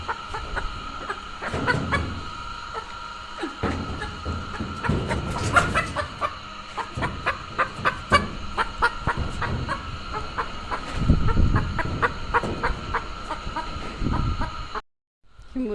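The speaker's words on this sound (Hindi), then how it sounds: "ये मुर्गी, देसी मुर्गी है" Desi chickens and roosters clucking on a farm beside a soybean field, with bursts of close, insistent clucking and cackling over a steady background hum, ending in a brief drop to silence.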